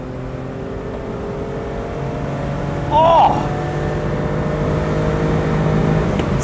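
A Honda Beat kei car's 656cc E07A three-cylinder engine with individual throttle bodies drones steadily and climbs in pitch as it revs, nearby, with a short exclamation from a voice midway.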